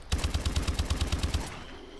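A light machine gun firing in a video game: a rapid, evenly spaced burst of about a dozen punchy shots over just over a second, close and loud, then a short fading tail.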